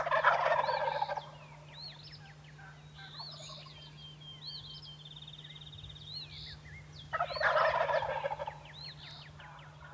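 Wild turkeys gobble on the roost at dawn, several distant gobbles rolling in from different directions, with two louder, nearer bursts at the start and end over a steady low hum.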